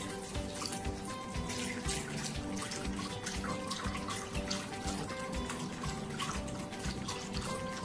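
A 32-ounce carton of chicken broth pours steadily into a crockpot, a continuous splashing, gurgling stream with no talk.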